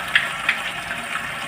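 Water runs steadily into a commode's flush tank once the supply is opened, a close gushing fill with a few small splashy bursts and no talk.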